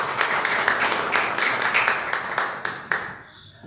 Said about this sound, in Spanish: Dale un fuerte aplauso al Señor otra vez.